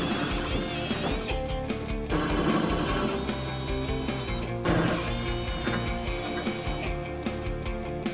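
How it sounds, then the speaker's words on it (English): A power drill enlarges pilot holes to 9/16 inch in the steel bed of a Chevy Silverado, giving a loud, continuous whining grind with brief dips and shifts in pitch, close and with no talking. "Continue the installation by enlarging the pilot holes in the bed to 9/16 inch."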